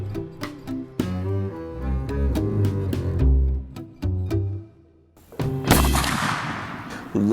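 One sharp, loud shot from a .50 caliber Smith & Wesson handgun fired at a feral hog cracks out over steady background music near the end.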